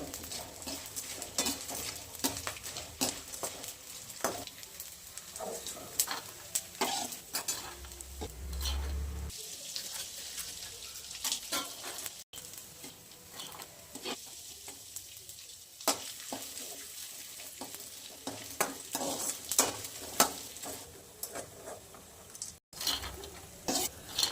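Sev for methi ladoo fries in hot oil in a pan, a continuous crackling sizzle broken by frequent scraping stirs and light utensil clinks, close and steady with no voices.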